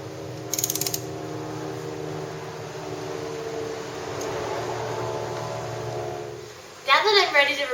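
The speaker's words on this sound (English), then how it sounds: "I'm going to replace the drain bolt so I can replace the oil." A ratchet tightens the drain bolt on the gearbox hub of a Vespa LX 150 scooter during an oil change. A quick run of close clicks comes early, and a second rattling burst comes near the end, over a steady low hum.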